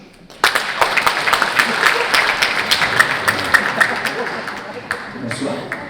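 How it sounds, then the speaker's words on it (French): An audience at a stand-up comedy show bursts into clapping after a short quiet moment, dense applause swelling quickly and then slowly tapering off, loud and close with crowd noise mixed in. "Clap your hands if you speak English but no French."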